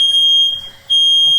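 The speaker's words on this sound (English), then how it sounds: "we got smoke alarm going off" A smoke alarm in a kitchen sounds during pizza baking, a loud piercing high tone that holds steadily, dips briefly near the middle, then resumes at full strength.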